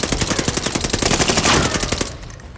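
Rapid bursts of automatic gunfire from a shooter video game, loud and close, rattling in quick succession for about two seconds before tapering off, with no talking.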